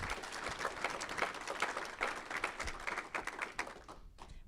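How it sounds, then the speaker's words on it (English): An audience at a spring student final presentation claps in a steady, even round of applause, fairly faint and distant, tapering off at the end. "So just one last round of applause for our yachters."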